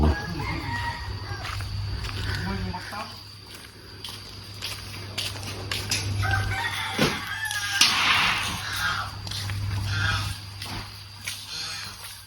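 Bantam chickens cluck and a bantam rooster crows nearby over a steady low hum, with scattered footsteps and rustling.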